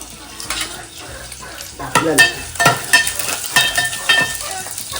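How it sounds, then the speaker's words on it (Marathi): Garlic and curry leaves crackle and sizzle in hot oil in a pan, with sputtering pops and several sharp clinks of a spoon against the vessel, close and fairly loud. "तेल तापलेलं आहे आता काय करायचं आहे लसूण टाकायची बरं सगळ्यात आधी लसूण घातली आहे आणि मग कढीपत्ता"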